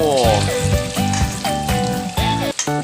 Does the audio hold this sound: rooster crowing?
no